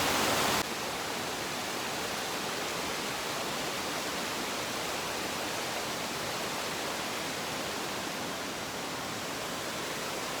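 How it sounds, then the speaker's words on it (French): A mountain waterfall in the Beaufortain, swollen with recent rain and snowmelt, roars as a dense, unbroken wash of falling water, loud and close throughout. "Petite pause au pied de la cascade."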